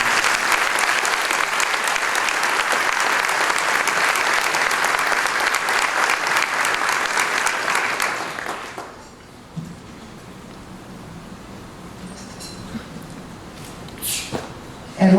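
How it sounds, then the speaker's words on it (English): Round of applause from an audience at an awards event, loud sustained clapping for about eight seconds that stops abruptly, followed by quiet room noise with a few shuffles and thumps. "Let's give them a great round of applause."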